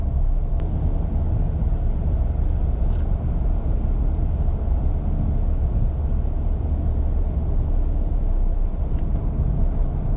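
Inside a 2019 Honda Fit EX CVT on Firestone tires, a constant low road rumble mixes with faint wind noise, steady and unbroken while cruising.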